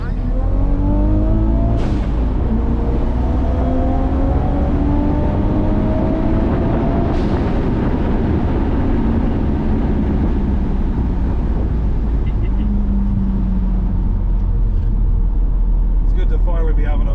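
Nissan Skyline R32 GT-R accelerating hard on a race track, the engine climbing through rising revs with gear changes, loud and close from inside the car, steady throughout.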